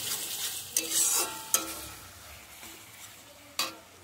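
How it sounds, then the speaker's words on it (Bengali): Spice paste sautés in a pan, a soft continuous sizzle broken by a few sharp scraping strokes of a spatula stirring it, heard close with no talking. "এরকম মশলা এখন আমি কষাচ্ছি"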